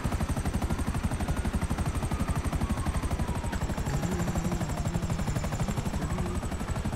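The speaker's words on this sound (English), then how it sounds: "I have to at least take the helicopter out." Helicopter pursuing the player during a GTA 5 Online police chase, a loud steady rotor chop pulsing through the whole stretch with dense game noise and bursts of gunfire layered in, and no one talking.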